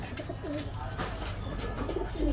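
Pigeons at a pigeon shop in Gollamari, Khulna, coo low and continuously, close up, under a busy, noisy background hum.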